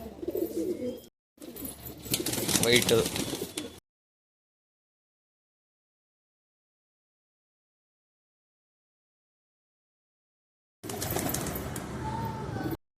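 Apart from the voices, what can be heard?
pigeons cooing in a loft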